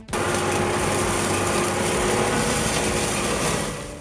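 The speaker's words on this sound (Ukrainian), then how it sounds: "гідравлічна косарка СТ 1250 б" The ST-1250B hydraulic mulching mower runs steadily at close range, giving a continuous loud mechanical drone with a high whine that eases slightly near the end.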